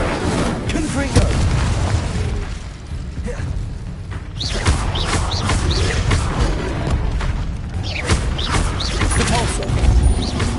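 Fiery Confringo spell blasts in Hogwarts Legacy, a run of loud booming explosions with crackling, creaking debris and mechanical clatter, dense and continuous over several seconds with a few sharper bursts.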